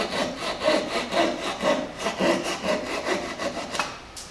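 A hand saw cutting through clamped wood in a workshop, steady back-and-forth rasping strokes about two per second, close and clear with no talking.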